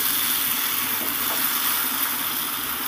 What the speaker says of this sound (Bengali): ভাজা ভেন্ডিগুলোকে দিয়ে আলু আর মশলার সাথে এবারও আমি 2 মিনিট ধরে কষাবো।